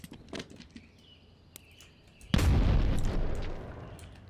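A frag grenade thrown over a wall detonates in the night-time shooter Operator: Tier 1, a sudden loud boom that rumbles on for about two seconds after a quiet stretch with a few faint clicks and distant chirps.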